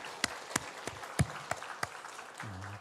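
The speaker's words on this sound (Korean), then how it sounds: "우리 박수로 환영하겠습니다" A small church congregation claps in welcome for a newcomer during a Sunday service, with sparse, scattered hand claps spread over a few seconds in a quiet hall before a low voice starts up.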